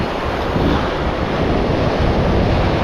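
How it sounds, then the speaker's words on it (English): Ocean waves breaking and washing on a beach where waves come from several directions, a continuous loud rushing surf with wind buffeting the microphone. "standing at this point right here is where you get waves from like 3 different directions"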